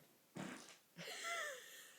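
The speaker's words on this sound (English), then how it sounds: "He's farting in his sleep as well." A sleeping person lets out two farts, a short buzzy one followed by a longer wavering one, quiet and close in a still room.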